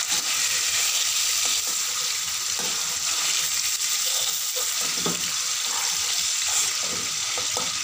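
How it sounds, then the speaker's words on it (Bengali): Vegetables fry in a pan for a veg biryani, giving a steady, loud, close sizzle that runs throughout, with occasional stirring scrapes. "ফ্রাই করা হয়ে গেছে।"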